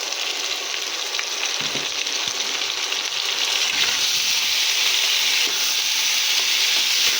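Yardlong beans fry with a fish head in a pan, producing a loud, continuous sizzle that swells slightly partway through, with faint stirring scrapes and no voices.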